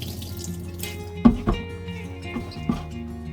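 Blanched acanthopanax shoots squeezed by hand, water dribbling and splashing out in a few soft, close squelches and trickles in a quiet kitchen.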